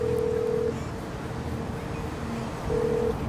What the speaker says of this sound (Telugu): ట్యాక్సీకి ఫోన్ చేద్దాం గైస్.